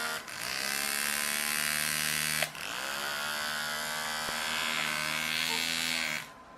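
Small electric motor of a Kid Galaxy RC toy bug spinning in reverse, a steady high-pitched whir with a brief dip partway through, running close and alone before cutting off near the end.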